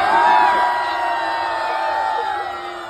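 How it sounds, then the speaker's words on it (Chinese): A concert crowd in Taichung screams and cheers loudly with whoops and shouts, a continuous roar that stays strong and close throughout. "给我一个尖叫声可以吗？"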